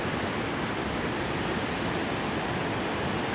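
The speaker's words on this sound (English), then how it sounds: "Cascades coming down." Black waterfall cascades at Rhaeadr Ddu pour down through woodland, a steady, loud, broadband rush of falling water that stays constant and close without pause or voices.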